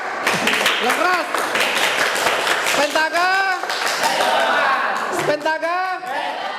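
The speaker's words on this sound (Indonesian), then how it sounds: "Tepuk tangan kelompok 4. Yang keras." Classroom of students clapping for a presenting group, a steady dense patter of hands throughout, with a teacher's voice and students calling out over the applause.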